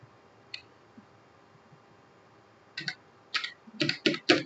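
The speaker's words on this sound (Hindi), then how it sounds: "अपने कीबोर्ड पे इक्वल प्रेस करेंगे, उसके बाद लोअर लिखेंगे, फिर ब्रैकेट को स्टार्ट करेंगे" An Excel formula being typed on a computer keyboard: a few isolated taps, then a quickening run of crisp keystrokes near the end, close and clear with no speech.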